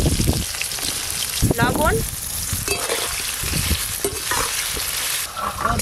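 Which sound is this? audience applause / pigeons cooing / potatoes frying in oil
potatoes frying in oil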